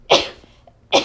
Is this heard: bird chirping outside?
no